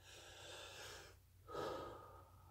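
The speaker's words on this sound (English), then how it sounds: "I'm breathing in the mic again." Two close, breathy exhalations straight into a microphone, separated by a short pause, with the second breath slightly louder and rougher.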